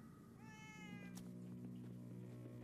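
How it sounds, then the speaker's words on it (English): A single cat meows once in a Minecraft Story Mode game scene, a clear rising-falling call heard near and moderately loud over a low steady background hum. "I still hear the cat."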